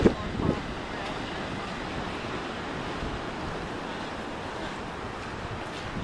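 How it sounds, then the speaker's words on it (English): Steady broadband roar of surf with wind noise throughout, a brief louder splash near the start, waves washing continuously at moderate distance. "that's just the waves crashing"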